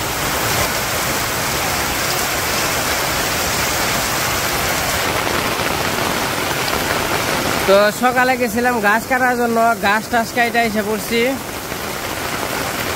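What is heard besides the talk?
rain falling in a village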